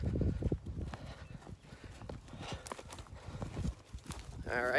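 A horse walks along with steady clip-clopping hooves at close range, while people talk over the footsteps.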